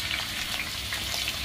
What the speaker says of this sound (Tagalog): Prito ko lang sa dito sa used oil.